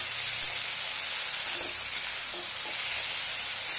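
Potatoes and drumstick pieces fry in oil in a pan, a close, steady sizzle with faint stirring scrapes throughout and no voices.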